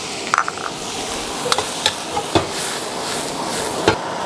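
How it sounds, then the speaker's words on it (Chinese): Beef stir-fried in a wok with scallions and green peppers, a steady broadband sizzle with scattered sharp clacks and scrapes of a spatula against the metal, close and moderately loud. "翻炒出葱香味儿过后就下青椒"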